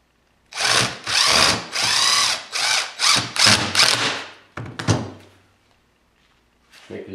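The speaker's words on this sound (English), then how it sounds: "I'll drive my last 2 screws in." Drill drives screws into an antelope horn panel in several loud, close bursts of whirring, each spin-up stopping and restarting, with a brief clunk near the end.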